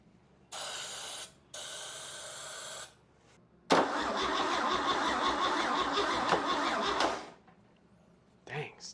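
An inline-6 engine with a suspected carburetor fuel delivery problem cranks in two short bursts, then a longer steady cranking run of about three seconds, close and loud, without catching.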